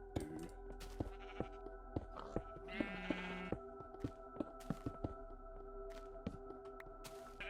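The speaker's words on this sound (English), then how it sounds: "All these sheep in my dang way" Sheep bleat in Minecraft Alpha, with one clear wavering bleat standing out over a steady hum of game sound and regular clicking taps.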